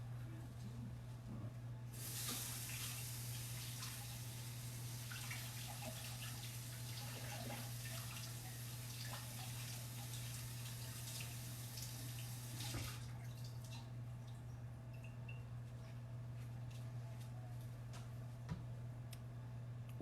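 Asparagus is rinsed under a running tap, a close steady splash of water lasting about ten seconds before it stops, leaving a low hum and faint ticks.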